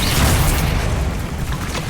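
Bombarda spell detonating in the Hogwarts Legacy video game, a loud, broad booming blast with crackling debris that fills the whole moment and slowly tapers off.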